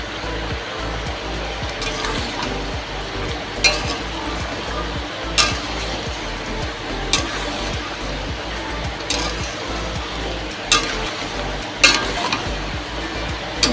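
Meat and potatoes coated in spices sizzle steadily in a pan, with occasional clinks and scrapes as they are stirred. The frying is close and fairly loud throughout, and no one speaks.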